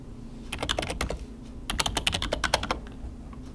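Keys clack on a computer keyboard as a password is typed, two quick bursts of close, crisp keystrokes separated by a short pause, with no voices.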